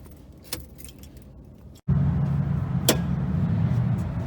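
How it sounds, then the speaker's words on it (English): Car keys jangle in a metallic rattle as a car's ignition is switched off at a gas pump; after a brief silent gap a steady vehicle or station hum continues, with a second small clink near the end. "rule number 1, turn off the ignition"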